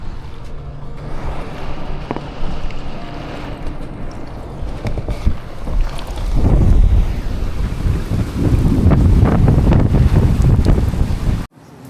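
Storm wind roars across a sailboat at sea, buffeting the microphone with heavy gusts and rushing water, growing louder partway through before cutting off abruptly.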